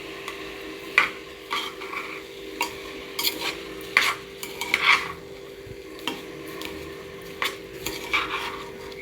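A spoon stirs mung dal and rice together in a pot for khichdi, producing irregular clinks and scraping knocks against the metal over a low steady hum, with no speech.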